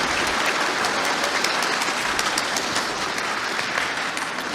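Audience applause after a debate remark about Brexit, a dense, steady wash of many clapping hands sustained at even loudness throughout, with no voices over it.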